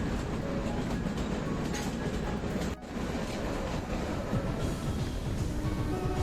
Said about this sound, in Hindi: ये देखिए टनल के अंदर इस ट्रेन का ये शानदार प्रवेश